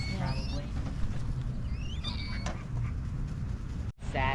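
Ducks quack intermittently beside a lake in Florida, short nasal calls scattered over steady outdoor background noise, with a brief dropout near the end.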